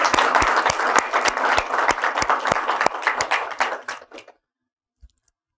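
An audience gives a vote of thanks with dense, enthusiastic applause at a talk. The clapping is loud and sustained, then thins out and stops abruptly, leaving near silence.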